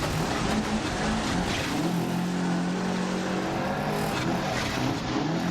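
A rally car on a Monte Carlo stage in the video game Dirt Rally 2.0, its engine roaring loud and close, pitch shifting as it drops down through the gears, with tyre and road noise underneath.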